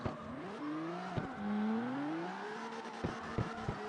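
A Nissan R34 engine in the CarX Street racing game revs in second gear, a steady rising and falling whine with brief gear-shift breaks and short bursts toward the end.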